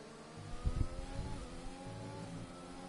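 An F1 race car in a video game speeds down the straight, its engine a sustained, fairly faint whine, with a louder swell of revving early on that settles into a steady drone.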